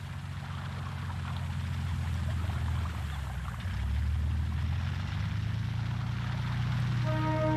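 A Savoia-Marchetti S.55 flying boat drones steadily with loud, continuous propeller engine noise, a deep sustained roar that shifts slightly in pitch partway through and holds for the whole span.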